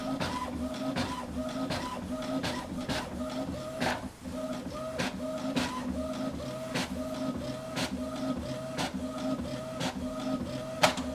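An old HP PSC 1315 inkjet printer printing a sheet, close and steady, with a regular whirring motor and a repeating pattern of clicks and print-head sweeps at an even rhythm.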